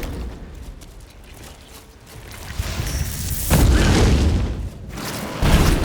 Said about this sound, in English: I don't know what the name of that fire spell is, but it's super effective